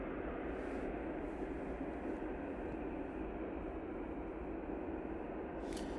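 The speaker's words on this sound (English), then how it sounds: "Should also hopefully see the first of the heavies going out. So we should get the Qatar Dreamliner." A Qatar Airways Boeing 787 Dreamliner departs Manchester Airport on a snowy day, a steady, broad jet roar holding level throughout, distant and continuous with no voices over it.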